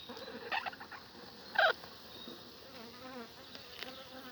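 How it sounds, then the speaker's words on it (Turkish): A low, steady buzz of many honeybees fills the background at an apiary during honey harvesting, with a few brief louder bursts as insects pass close. "Bunlar yayladan getirdiğimiz arılar arkadaşlar"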